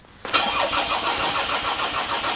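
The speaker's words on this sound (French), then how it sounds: "J'ai fait rentrer Gaïa parce qu'elle était tétanisée de froid et la voiture démarre pas quoi" A car engine cranks at -30°C in Lapland, a rapid rhythmic churning of the starter that begins abruptly and keeps grinding loudly and close without catching.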